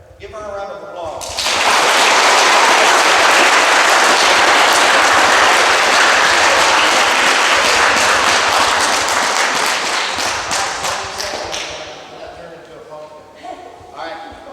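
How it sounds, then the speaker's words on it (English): At a school Veterans Day program, an audience bursts into loud, sustained applause that swells quickly, holds for about ten seconds and then tapers off into a few scattered claps. "Give her a round of applause."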